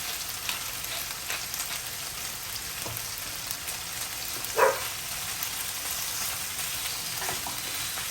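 Seasoned pork pieces stir-frying over high heat in a pan for a Chinese stir fry, a constant close hissing sizzle with faint stirring scrapes and one brief clink midway.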